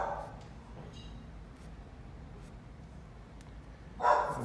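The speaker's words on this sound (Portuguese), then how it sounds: "E a cachorrada acordou, hein?" A pack of dogs barks somewhere away from a quiet indoor painting session: a short burst at the very start, then a louder flurry near the end over a steady low background hiss.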